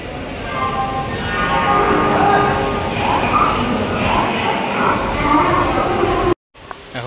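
A Howrah–SMVT Bangalore superfast train pulls out of a platform at a busy station, a steady loud rumble of rolling wagons with horn-like tones, ending in a sudden cut near the close.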